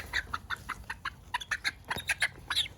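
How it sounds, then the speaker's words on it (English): A chicken with a barred rock head clucks in a quick, steady series of sharp, close calls, with no talking over it. "This is the funkiest looking chicken."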